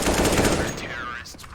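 Rapid automatic gunfire in the Counter-Strike map Inferno during a competitive match, a dense loud burst of shots that trails off, under an excited commentator's voice.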